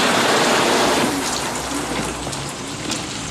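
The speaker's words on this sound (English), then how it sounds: "Right now, it's pouring rain." Pouring rain in a film scene makes a dense, steady hiss that is loud at first and eases slightly, with no voices.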